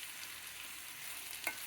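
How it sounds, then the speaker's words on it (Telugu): Onions, green chillies, curry leaves and tempering spices sizzle in hot oil, a faint steady hiss with a brief stir or spatter near the end. "ఉల్లిపాయలు, పచ్చిమిరపకాయలు, కరివేపాకు, పప్పు దినుసులు వేసి, పోపు దినుసులు అన్నమాట వేసి కొంచెం వేగనివ్వాలి"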